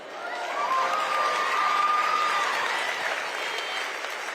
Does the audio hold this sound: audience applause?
yes